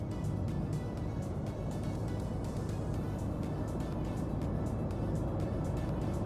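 A car out on a test drive after a tie rod replacement, with a steady, continuous low road and engine rumble throughout and no talk.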